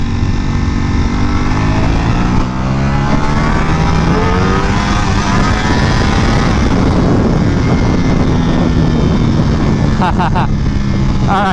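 Ducati Panigale V4S motorcycle engine on the move: a loud, close engine roar with rising and falling revs and shifting pitch, mixed with wind rush, continuous across the whole stretch.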